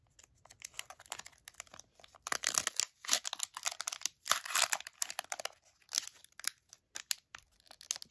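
A cellophane wrapper on a 1997 Action Packed NASCAR card pack is torn open: close, bursty crinkling and ripping in uneven clusters, with brief pauses between grabs.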